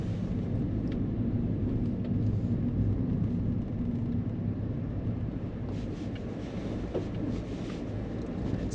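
Car accelerating during a beginner driving lesson, a steady low engine rumble from inside the cabin that holds loud and even throughout, with faint knocks and rustles near the end.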